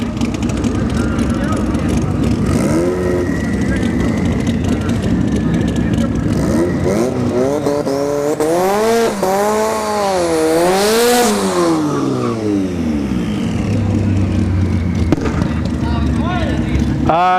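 Honda CRX drag racing at ShowTime Dragstrip, its engine screaming through rising and falling gear pulls, loud and continuous, with other engine noise and crowd sound around it and people talking.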